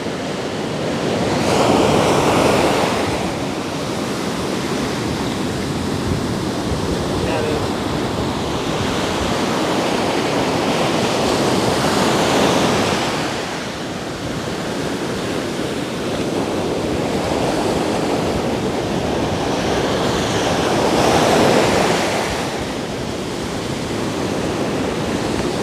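Ocean waves wash onto a beach at sunrise in warm water, surging and receding in broad swells roughly every nine to ten seconds, close and steady with no voices.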